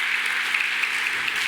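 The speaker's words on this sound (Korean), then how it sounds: "우리 잘했다고 우리 한번 박수 한번 할까요" A church congregation claps for the children's praise team at a Sunday service, a dense, steady wash of applause that stays even and fairly loud for the whole moment with no voices over it.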